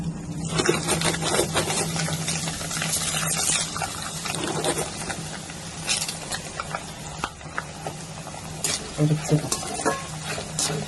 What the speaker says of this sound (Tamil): அதில் கடலையை வறுத்து போட்டாச்சு.